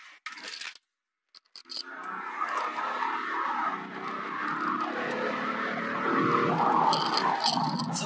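A BMW 435d accelerating with its tires skidding, starting with a few brief sounds and a short silence, then a continuous broad tearing screech and road roar that builds steadily and stays loud to the end.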